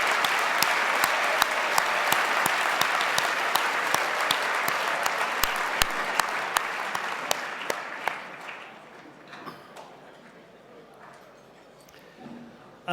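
Sustained applause from a ceremony audience honouring a chef and his team, dense rapid clapping at steady volume for about eight seconds, then thinning out and fading to sparse claps and quiet.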